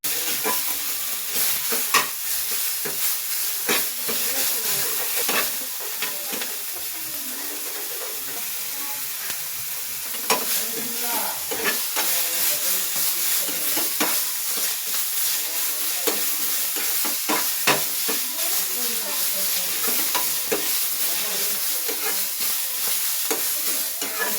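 Whole masala ingredients roast in a pan for a soya green biryani, with a continuous dry sizzle and repeated scraping stirs throughout, close and fairly loud, with no talking.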